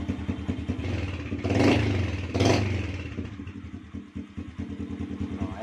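A motorcycle with a push-button starter, just after a starter repair and cleaning, chugs and idles close by, with two brief louder revving bursts early on before settling into a rough, uneven idle.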